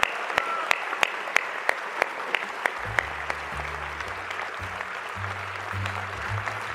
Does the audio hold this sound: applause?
yes